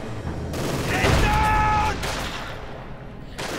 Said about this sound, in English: getting gunned down with machine guns there